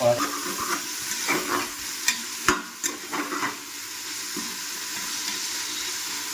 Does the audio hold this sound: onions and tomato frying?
yes